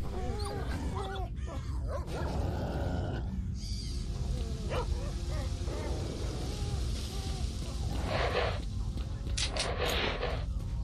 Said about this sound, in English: The boars are fighting the dogs.